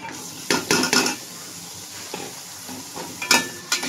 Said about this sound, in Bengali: একসাথে ভাজবো, ভালো করে ভাজতে হবে লাল লাল করে।